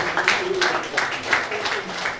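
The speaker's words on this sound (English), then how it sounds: "A round of applause" Audience at a university orientation for first-year computing students gives a round of applause, a steady wash of clapping from many hands with voices mixed in.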